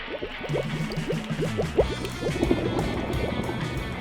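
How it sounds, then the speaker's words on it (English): A small RC submarine's ballast system gurgles and burbles as it draws in water to dive, with a rapid run of bubbly, dripping pops over a steady motor whir, close and fairly loud. "Oh, it's like slowly sucking in the water."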